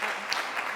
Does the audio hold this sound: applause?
yes